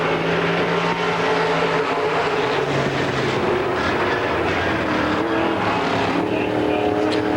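An M-Star Limited late model race car, Mark Motes in car 48, on a qualifying lap at an oval track. A continuous loud engine roar holds steady throughout, close and unbroken.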